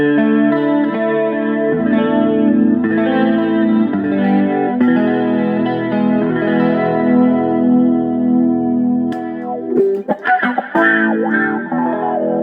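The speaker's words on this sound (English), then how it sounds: "Chuck on a little bit of chorus." A Gibson SG Special electric guitar plays through a chorus effect, with shimmering, wavering chords and melodic lines sounding close and loud throughout, ending in a few sharper plucked notes.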